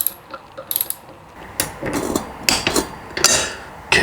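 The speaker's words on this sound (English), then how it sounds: "Huge torque wrench for just 33 Newton meters, hey?" A large torque wrench tightens the bolts on a rear motorcycle wheel fitted with a Pirelli Scorpion Rally STR tire, giving a series of close, sharp ratcheting clicks and metallic clunks.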